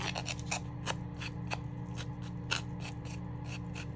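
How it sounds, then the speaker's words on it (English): Edge of a scrap-paper notepad being sanded by hand, quick repeated rasping strokes in an uneven rhythm, close and fairly quiet over a low steady hum, with no talking. "it looks like we need to just sand that down a little bit"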